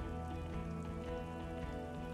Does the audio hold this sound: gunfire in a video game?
no